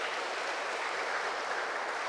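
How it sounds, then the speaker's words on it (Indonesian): A church congregation at Sunday Mass applauds, producing a soft, even wash of distant clapping that holds steady for about two seconds. "Kita beri tepuk tangan suster ya."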